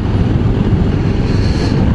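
Steady low engine drone of a Royal Enfield Scram 411 motorcycle riding uphill at moderate throttle, loud and continuous with some wind buffeting.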